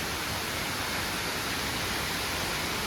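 Hulugan Falls waterfall pours in a steady, loud, continuous broadband roar, close by and alone with no voices over it.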